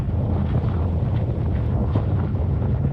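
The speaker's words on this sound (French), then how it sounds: "Il y a beaucoup de vent." Strong wind buffets the microphone during a drive in a Mustang, a continuous low rumble and roar, steady and loud throughout.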